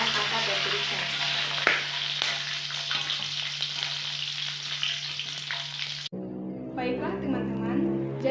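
Shallots, garlic, bird's eye chilies and red chilies fry in hot oil with a dense, steady sizzle and a low hum, broken by a brief stir, then a softer bubbling after a sudden cut, with some voices in the background.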